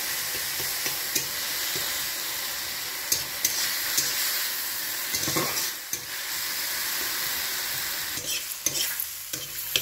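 Sour okra chutney with added water is stirred in a hot pan, a steady frying sizzle and hiss running throughout with scattered utensil scrapes and clinks, close and fairly loud, no voices.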